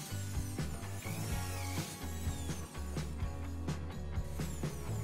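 A drill with a 1.5 sut bit boring holes into a window frame for a two-track sliding window, heard as short repeated whirring bursts with clicking, ratchet-like bites between them, fairly close.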